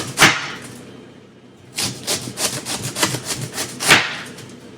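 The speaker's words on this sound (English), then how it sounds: "The satisfying sound of slicing cabbage and all of the layers inside" A knife slices through a head of cabbage, giving crisp, crunchy cuts close by: one sharp crunch, a pause, then a fast run of repeated slicing strokes ending in a loud final cut.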